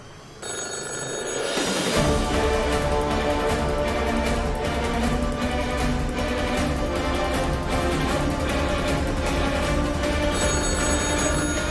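A telephone bell rings steadily and loudly, its repeated trills continuing for several seconds over a constant background hum.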